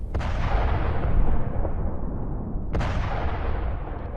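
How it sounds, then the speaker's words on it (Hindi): Two heavy blasts from bombing in Isfahan, Iran, one at the start and another after a pause of about two and a half seconds, each trailing off into a long rumbling roar that fills the clip. "यहां देखिए भीषण बमबारी की तस्वीरें भी सामने आई हैं, जहां एक के बाद एक धमाके किए गए हैं"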